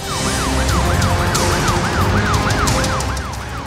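A loud wailing ambulance siren sweeping up and down in a fast repeating cycle, with road traffic rumbling underneath.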